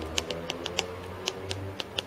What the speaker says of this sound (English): although I'm just typing gibberish.